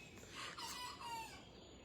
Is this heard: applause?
no